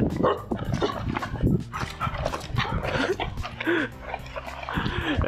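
A dog barks, yips and whimpers excitedly close by in a neighbourhood outdoors, with repeated sharp bursts and people talking over the commotion.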